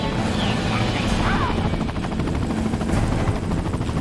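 A helicopter in the video game Resident Evil 4, with a constant rotor thrum and engine roar close and loud. Gunfire-like crashes and a voice come through over it.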